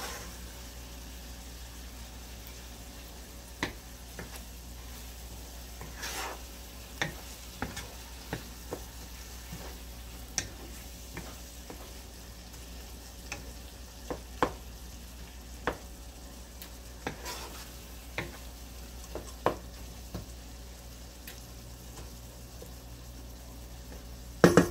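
Tomatoes cook in a pan for pakbet with a low, steady sizzle and bubbling, broken by sporadic sharp clicks and taps of a utensil against the pan throughout.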